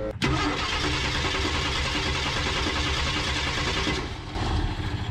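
A 1965 Ford F100 farm truck, abandoned for years, with its six-cylinder engine cranking and catching after a sharp start, then running roughly at a steady loud idle, close by.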